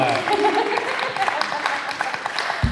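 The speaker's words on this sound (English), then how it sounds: "Everybody, clap for Henry." Audience clapping at a San Diego Comic-Con panel on comics and culture, a short burst of applause mixed with voices talking over it.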